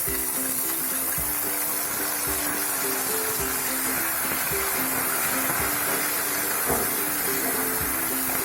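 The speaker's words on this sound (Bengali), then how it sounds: "এবার টমেটো কুচিগুলো দিয়ে দিলাম।" Chopped tomatoes hit a hot pan of browned onions for egg curry. A continuous close frying hiss and sizzle runs steadily throughout.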